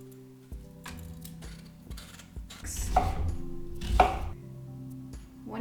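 Ginger minced with a knife on a board for kimchi paste, a run of irregular taps and chops building to a couple of heavier strikes, close and distinct.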